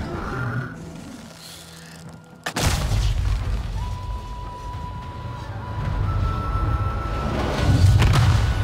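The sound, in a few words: explosion in a video game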